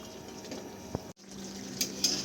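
Dahi chicken gravy bubbles in a pot, a steady soft simmering hiss with a couple of small clicks and no talking.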